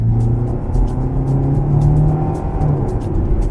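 A 2025 Hyundai Tucson accelerating: a steady, continuous engine drone with a low hum that holds at a fairly even loudness throughout, with no talking.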